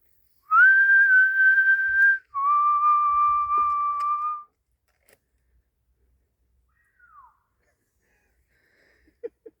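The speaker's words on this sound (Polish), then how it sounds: "Gwiżdżemy i ktoś odpowiada." Two sustained human whistled notes in a forest, clear and close, the second slightly lower, followed by near silence with a few faint distant clicks.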